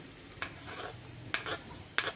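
Onion frying in a pot on a wood-burning stove, with three short bursts of sizzling and stirring scrapes standing out over a quiet, steady background crackle.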